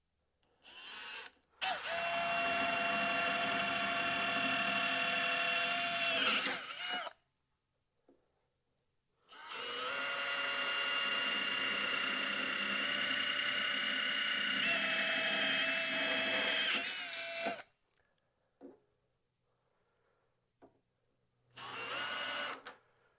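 A power drill bores through aluminum with a loud, steady high-pitched whine, running in two long bursts of several seconds each separated by a pause, with a short final burst at the end.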